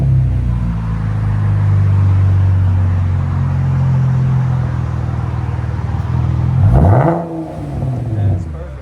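A 2017 Chevy Camaro RS with a 3.6L V6, X-pipe and Flowmaster axle-back exhaust drones steadily up close, then revs sharply near the end and falls back to a rumble, with voices talking over it.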